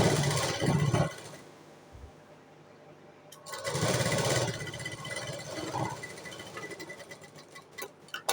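A sewing machine runs in short stitching bursts along a folded buttonhole strip, its motor whirring up and settling, close by, with a brief pause and quiet background noise between runs.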